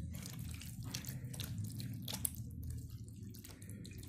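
Tap water runs into a sink while mutton is washed for a curry, a steady splashing flow with a few small clatters, close and continuous, with no talk.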